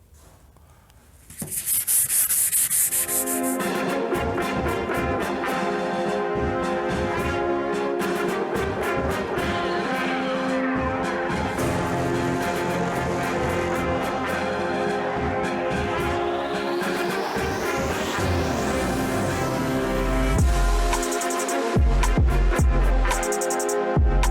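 Steady, continuous scratchy rubbing of 240-grit sandpaper across a Porsche body panel, close and loud, with rhythmic strokes and a few brief sharper scrapes near the end.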